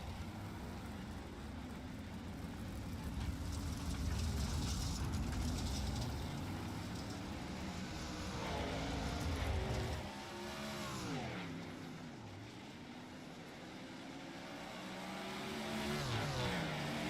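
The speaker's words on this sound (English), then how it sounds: "We'll let the drivers run in the racetrack" Sprint race cars run warm-up laps around a speedway, their engines swelling and fading in a continuous roar as they pass. A few clear engine-pitch sweeps rise and fall partway through, and a faint voice is heard occasionally.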